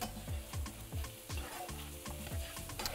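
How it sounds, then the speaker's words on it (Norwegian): Onions frying in a pan with salt, pepper and paprika, sizzling steadily while a utensil stirs them with regular scraping knocks against the pan, close and fairly quiet. "Blander det bare inn sammen mens det fortsetter å steke litt til."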